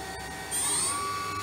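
A DMG Mori DuraVertical 1035eco CNC machining centre spindle spins up at speed, a steady mechanical hum that steps louder midway and carries a sustained high-pitched whine, with no talk over it.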